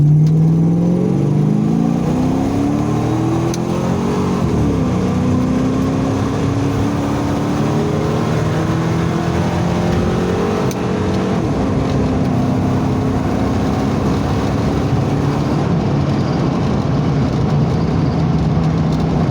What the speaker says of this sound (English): Now we'll do a little drag racing.